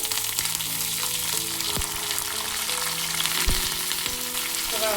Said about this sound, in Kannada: ಸಾಸಿವೆ ಚಟಪಟ ಅಂತಂಗೆ ಮಧ್ಯದಲ್ಲಿ ಸಿಳಿರೋಂಥ ಎರಡು ಹಸಿಮೆಣಸಿನಕಾಯಿನ ಹಾಕೊಳ್ಳೋಣ